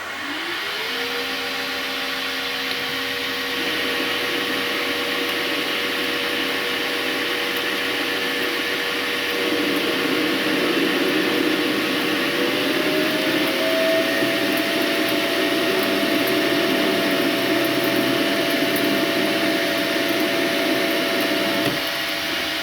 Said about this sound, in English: let's just start by turning this down and using the feeds and see how it goes.